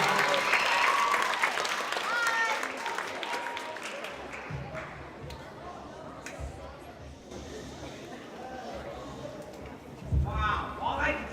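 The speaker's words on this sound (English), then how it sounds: "make some Bailey noise, show some Bailey love for Miss Annette Spann Lewis." An audience at a school African American History Month program applauds an opera singer, clapping strongest at the start and then thinning out, with a voice speaking over the fading applause and a brief louder burst near the end.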